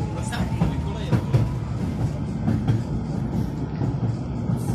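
A tram runs on rails toward Prague, with a continuous rolling rumble and repeated clicks of wheels over rail joints, heard from inside while people talk.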